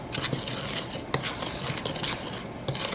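Dry ingredients and sugar for apple fritters being stirred in a bowl, a close, continuous patter of scraping and rubbing with small knocks and no voices.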